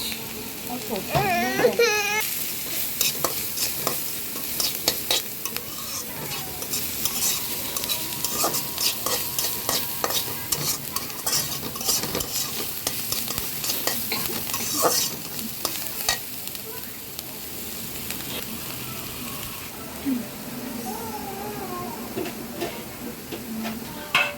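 Garlic and a few onions fry in a pan for homemade fried rice, giving a continuous close sizzle broken by repeated stirring scrapes and clatters, with intermittent voices and other kitchen sounds in the background.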